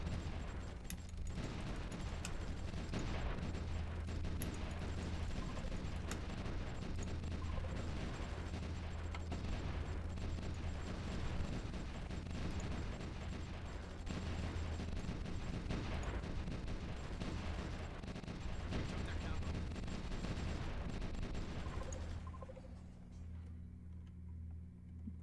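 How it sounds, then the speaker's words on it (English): Battlefield gunfire and shelling in the strategy game Supreme Ruler Ultimate, a long, faint stretch of steady popping shots and thumps that suddenly thins out near the end. "Because they have artillery."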